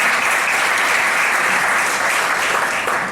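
Loud, dense applause fills a legal conference hall in Culiacán, Sinaloa, a continuous roar of many hands clapping at once that holds steady for the full few seconds without any voices.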